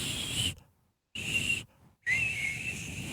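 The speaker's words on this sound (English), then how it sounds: "when he blows on the Oscar Mayer whistle, it's the saddest thing ever" An Oscar Mayer wiener toy whistle blown three times, each a thin, steady high tone lasting about half a second, with short silent gaps between the blasts.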